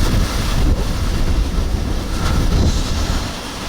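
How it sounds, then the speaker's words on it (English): Strong, roaring wind from the inner eyewall of Category 4 Hurricane Helene in Florida's Big Bend, buffeting the microphone with a steady, loud rumble that eases slightly near the end. "We are about to enter the inner eye wall of Category 4 Hurricane Helene"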